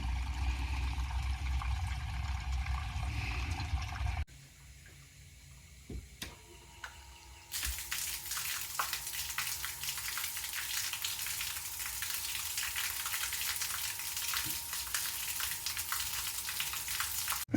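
A boat's bilge pump switches on and runs, pushing water out with a steady hissing, splashing rush after a quieter stretch with a few clicks, continuing evenly at moderate volume.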